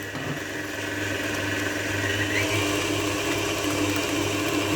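Steady electric mixer whirring through pear frangipane tart filling with rum, a continuous loud motor drone with no pauses and no talking.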